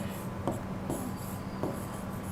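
Someone writes out an exclamation mark during a stenography exam lesson: a few brief scratchy strokes over a constant hissing background hum, close and fairly loud.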